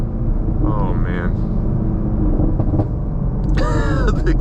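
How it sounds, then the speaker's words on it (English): A 2024 Chevy Camaro SS Collectors Edition with a manual gearbox rumbles loudly from inside the cabin while driving through a turn, a constant deep exhaust drone with faint tonal chirps on top. "The exhaust is crazy."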